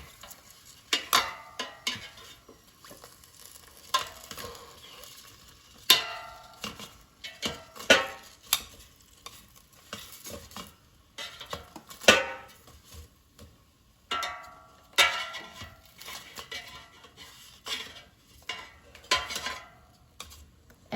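Bratwurst sausages are turned over in a metal air fryer basket, giving scattered light clinks and scrapes of tongs against the basket. The sounds come in short bursts with quiet gaps between them, close by.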